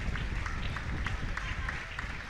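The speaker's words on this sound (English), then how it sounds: "Josh Kearns going off to a great round of applause" Crowd applause at a Fleetwood Town versus Mansfield Town under-18 FA Youth Cup match as an injured player is substituted off, steady scattered clapping and crowd noise across the whole stretch, moderately distant, with commentary over it.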